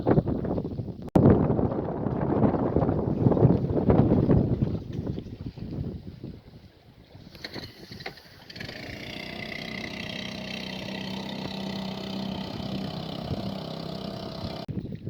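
A dinghy heads to the shore on a sailing trip around Britain near Kintyre; wind buffets the microphone at first, then a steady engine drone settles in, close and continuous with no talking.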